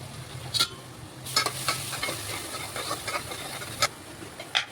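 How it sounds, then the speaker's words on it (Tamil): Masala and pepper powder sautéing in oil for a homemade chicken gravy, giving a steady close sizzle broken by sharp scraping stirs of a spoon against the pan. "கொஞ்சோண்டு மசாலா, வெறும் மசாலா மிளகுத்தூள் கொஞ்சம் போட்டு எண்ணெயில் வதக்கிக்கலாம்."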